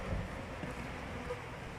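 Honeybees buzz around an opened hive during a beekeeping inspection, a low, continuous droning hum of many insects at a fairly quiet level, with light wind noise behind.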